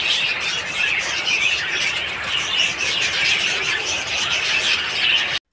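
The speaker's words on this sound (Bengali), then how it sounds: "এই যে দেখুন কতগুলো পাখি ছোট ছোট" A flock of small birds keeps up a dense, high-pitched chorus of chirps and squeaks in an open outdoor setting, heard steadily and fairly close before it cuts off abruptly.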